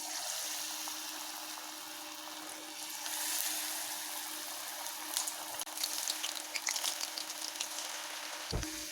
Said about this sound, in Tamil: இப்போ எண்ணெய் நல்லா சூடானதும் நம்ம ஒன்று ஒன்றா போட்டு பொரிச்சு எடுத்துடலாம்